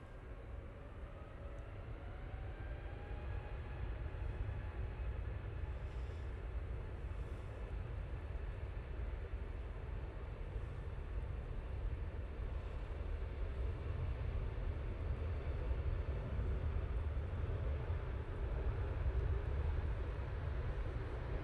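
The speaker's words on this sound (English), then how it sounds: "Taking the intersection, we have this Lufthansa A320 Neo" A Lufthansa A320neo jet takes off from a runway intersection at Manchester Airport, its engines giving a steady, broad roar that holds for the whole stretch.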